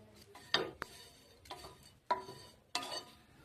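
Raw peanut mixture is stirred and dry-roasted in a pan for laddoos, giving a few distinct scraping, rattling strokes spaced about a second apart, close and fairly quiet, with no talking.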